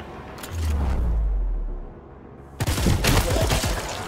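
Gunfire in the ShowGunners video game: a low rumble gives way to a loud burst of rapid shots, sharp and close, with no voice over it.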